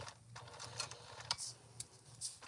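A sewing machine back stitches a seam on a tote bag a little at a time, producing quiet, close mechanical ticks and clicks over a low hum.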